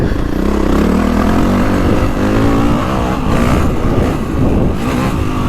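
A 2025 Honda CRF450R Works Edition motocross bike, its engine loud and close, roars continuously with revving surges and throttle changes while riding.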